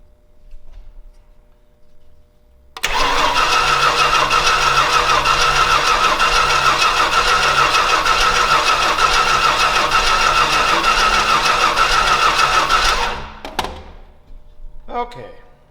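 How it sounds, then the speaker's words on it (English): The engine of Timmy the Tug, an aircraft tug in a hangar, cranks and catches, then runs at a loud steady roar for about ten seconds before cutting off, followed by a few rattles and clicks. "We are getting ignition."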